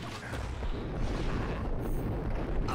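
A grenade explosion in the video game Max Payne, a sustained loud, rumbling blast that fills the whole moment with dense noise, heard alone without talking.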